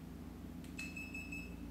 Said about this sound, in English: We can tell by the beeps if you listen here as I press the button.